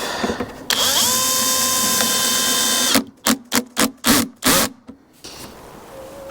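A power drill bores into melamine chipboard to countersink screw holes, one long loud whining run followed by five short sharp bursts, close and without speech.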